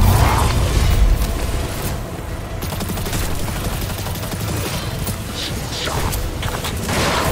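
Explosions from Destiny 2 Lightfall: a dense, loud barrage of booming blasts and crackling gunfire-like bursts that rolls on continuously, swelling at the start and again near the end.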